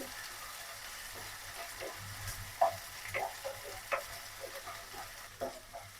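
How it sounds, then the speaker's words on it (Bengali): Steady oil sizzle from ginger, garlic and cumin paste frying in a pan, with occasional soft clicks and stirring scrapes, close and continuous. "আদা রসুন জিরা বাটা তেলে ভাজা হয়ে গেছে"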